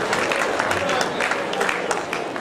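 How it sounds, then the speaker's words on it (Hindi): Audience applause at a Hyderabad evening stage show, a dense steady patter of many hands clapping through the whole stretch, with a faint murmur of voices mixed in. "ताली बजा सकते हैं आप।"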